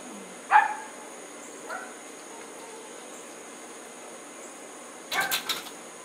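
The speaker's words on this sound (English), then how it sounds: "Yes, it's a crazy dog." A dog barking in a few short bursts: one at the start, a fainter one soon after, and a quick cluster near the end, somewhat distant over a quiet background.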